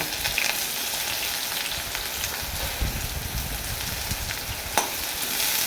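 Chopped onions sizzle and crackle steadily in a hot pan while cooking a potol and potato curry with fish roe, with a few sharper pops and stirring scrapes over a constant frying hiss, no voices.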